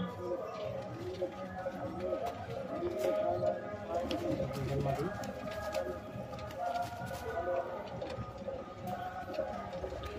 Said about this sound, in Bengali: এই যে ফিরোজদার সেই 4 নম্বর দোপাস পায়রাটা